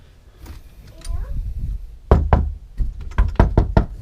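Knuckles rap on a fairly solid door of a KZ Venom fifth-wheel toy hauler RV in several quick bursts of sharp knocks. Someone speaks briefly first, then the knocks come close and loud.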